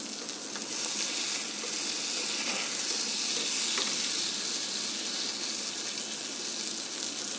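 Sardines fry in a pan as they are gently turned with a small spatula, a loud, continuous sizzle and crackle with a few soft scraping touches heard close up. Nobody speaks.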